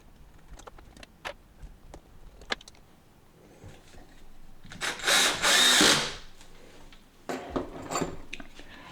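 A power drill bores holes for a DIY rack unit in short bursts, with one longer, louder whirring run in the middle and scattered clicks and clatter of parts between passes.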